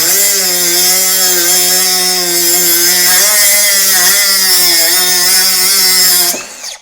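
A DOVAMAN DCS20A cut-off tool cuts through metal with a loud, steady high-pitched whine and grinding screech that holds level for about six seconds, then winds down abruptly at the end.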